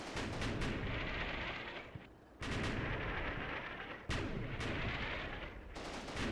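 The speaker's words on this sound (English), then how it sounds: "And here comes our barrage of mortars, landing really good hits." A mortar barrage lands in the Combat Mission: Battle for Normandy war game: heavy rumbling explosions hit in quick succession, a dense roar broken by sharp new blasts about every two seconds, with no voices.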